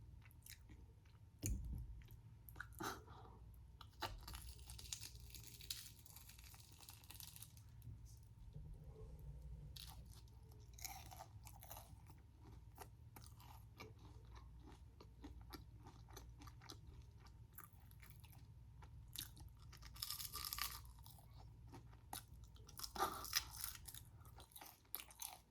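Close, quiet crunching and chewing of spiral tornado potato chips, Korean street food, with soft bites and squishy mouth sounds spread over a long stretch and occasional faint voices.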